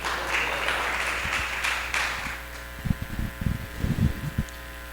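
A church congregation applauding during a worship service, with dense clapping in the first half that fades into a softer hum, scattered claps and thumps.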